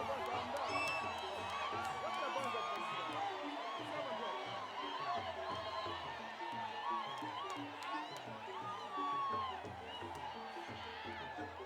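Excited crowd at the Kuomboka ceremony in Zambia as the Litunga emerges from the Nalikwanda, a dense mass of voices cheering, whooping and shouting, steady and loud throughout with rhythmic thumps beneath.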